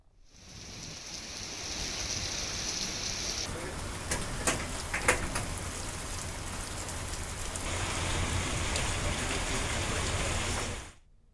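Heavy rain pours down in Hyderabad, a dense continuous roar of drops striking surfaces, with a few sharper splashes and crackles near the middle and the downpour swelling louder toward the end.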